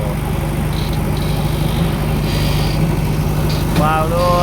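A JCB excavator's diesel engine runs steadily at close range, a continuous low rumble throughout, with people talking over it and a brief higher tonal sound near the end.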